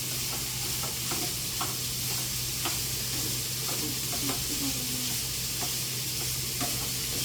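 Ground meat fries in a pan for chili mac with a constant loud sizzle while a spatula chops and scrapes at it in repeated short strokes throughout.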